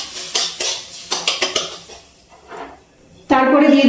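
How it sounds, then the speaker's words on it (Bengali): A metal spoon scrapes and clatters against a pan as fried semolina is stirred with a little added water. A quick run of sharp knocks gives way to softer scraping, and a sustained tonal sound takes over at the end. "দিয়ে একটু নাড়াচাড়া করে নিচ্ছি"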